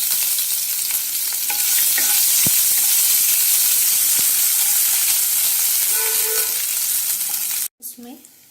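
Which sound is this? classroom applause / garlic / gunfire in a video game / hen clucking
garlic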